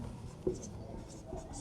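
A pen scratches out a math solution on paper in a few short, faint strokes close up, over quiet background.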